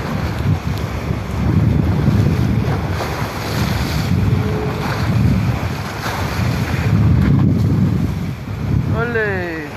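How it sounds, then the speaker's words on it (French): Sailboat in the Morocco Sailing Challenge off Tangier, pounding through rough ocean waves in strong wind, with a steady roar of surf and wind buffeting the microphone throughout and swells of water noise rising and falling. "et on surfe les vagues"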